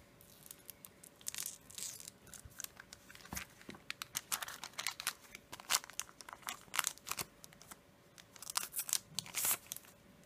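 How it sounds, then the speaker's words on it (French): Foil wrapper of a Pokémon Arceus Movie booster pack being torn open and handled: irregular close crinkling, sharp tearing rips and rustles with a steady faint hum underneath, no talking. "Et du coup, on va ouvrir le dernier booster."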